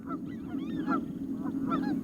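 A pair of Canada geese honk repeatedly as they fly off over a still marsh, their calls moderately near and set against a steady low outdoor rumble.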